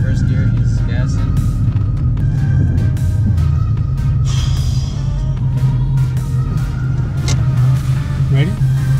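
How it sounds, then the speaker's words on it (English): A manual car pulls away in first gear while its driver gives it gas, its low engine rumble and drone running steadily beneath people talking throughout. "Shifts into first gear, he's gassing."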